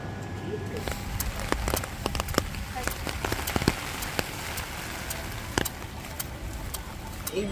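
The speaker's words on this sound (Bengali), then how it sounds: "সকাল থেকে এখনো বৃষ্টি পড়ছে" Heavy rain falls steadily in a dense, continuous hiss, with sharp drip taps and splashes scattered throughout at close range.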